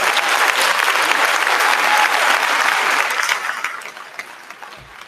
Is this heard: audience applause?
yes